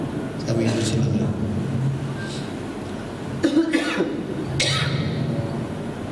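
Someone talks, breaking off for a few hoarse coughs in the middle, with the room's faint background noise underneath.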